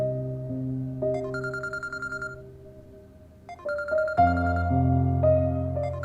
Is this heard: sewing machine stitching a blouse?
no